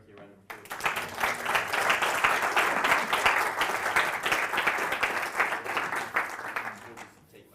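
Audience applause for Hiroki Takeuchi, co-founder of GoCardless, at a talk: a sustained burst of many hands clapping from a room full of people, swelling quickly and fading out after about seven seconds.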